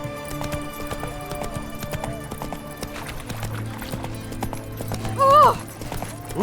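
Roach, a horse in The Witcher 3, gallops with a steady clip-clop of hooves over game ambience, and a short neigh rises near the end.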